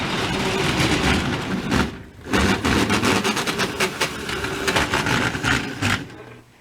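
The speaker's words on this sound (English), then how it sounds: "Oh, we're getting some wheel slip." A model train locomotive slips its wheels on standard track, giving a loud, steady mechanical whirring that dips briefly near the two-second mark, surges again, then cuts off near the end.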